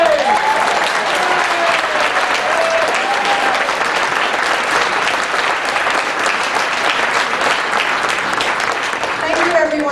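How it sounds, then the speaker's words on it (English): Loud, dense audience applause at an advocacy award event, continuous clapping filling the room throughout with faint voices underneath. "Let's give a round of applause for Monday!"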